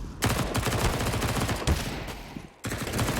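MP9 submachine gun fire in Counter-Strike on the Dust2 map, rapid bursts of close, loud automatic shots in quick rhythm, briefly cut off near the end before more firing resumes.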